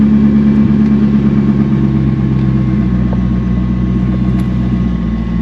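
A Corvette C5 engine idles in a steady low rumble with a constant hum, close by and unchanging throughout, with no voices.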